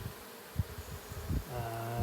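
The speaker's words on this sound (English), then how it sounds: "Yeah, this cluster does look like it's queenless." An agitated, queenless honey bee cluster hums with a soft, droning buzz, faint at first and rising to a steadier, fuller hum toward the end, with a few brief rustles.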